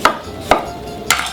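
A knife cuts lemons in half for a fish ceviche, giving three sharp, close chops on a board, evenly spaced and alone.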